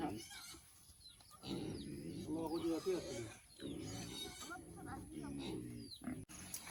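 Pigs on a pig farm grunt in short, irregular bursts, quiet and close, while people talk over them.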